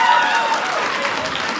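A stand-up comedy audience bursts into brief, dense applause, a steady wash of clapping from a crowd that holds level for about a second and a half.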